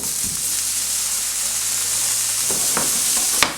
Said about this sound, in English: So right now I'm going to get my onions caramelizing